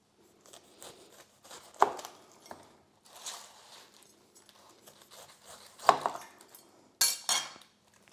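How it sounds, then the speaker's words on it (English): Knife work on a pineapple on a cutting board in a home kitchen, with scattered soft cuts and a few sharp knocks of the blade against the board, close and fairly quiet. "I'm going to get started with chopping up this pineapple before I chop up some jalapenos"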